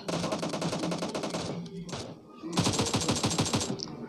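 Rapid automatic gunfire rattles in a mobile battle royale video game, two dense bursts of fast repeated shots separated by a brief lull, loud and close.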